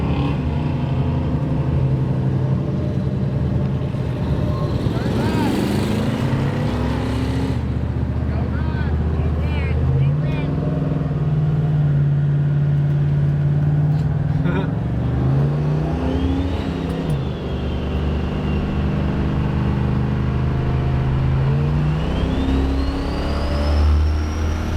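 Dodge Dart V8 with a four-speed held in gear and revved, the engine rising and falling in several long surges over a constant loud rumble.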